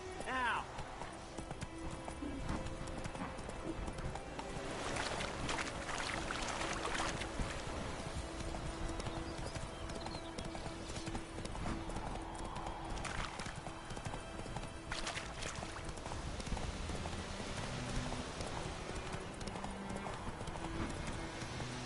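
Hooves of the horse Roach pounding at a gallop in The Witcher 3's White Orchard, a rapid continuous clatter with a few louder bursts, over game ambience and some voice.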